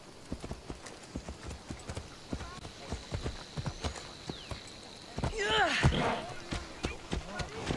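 In Assassin's Creed Odyssey, rhythmic horse hoofbeats clop steadily at a gallop, close and distinct, with a brief whinny-like sound partway through.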